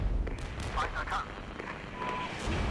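Mortar shells land in the video game Regiments, dull booming impacts and crackling blasts in a busy battlefield mix, with someone talking over them throughout.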